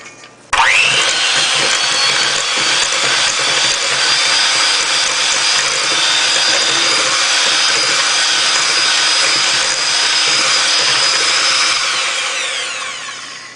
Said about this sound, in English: I have 2 eggs here, which I'm going to add into the mix, and I'm going to beat those in